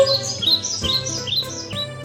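Small birds chirp in a quick, steady series of bright tweets that repeat roughly every half second, played as a comic sound effect standing in for cows.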